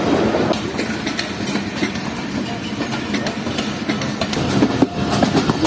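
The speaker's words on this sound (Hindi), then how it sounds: "ये सामने से आ रही है ग्रीन लाइन एक्सप्रेस 5 अप" Green Line Express 5 Up train approaching on the line at a Pakistani station, a loud continuous rumble with rhythmic clacking of wheels over rail joints throughout.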